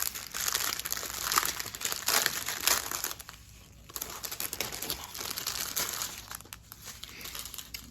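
Crinkly plastic packaging holding diamond painting diamonds is opened close up, giving a continuous rustling and crackling with a short quieter pause in the middle.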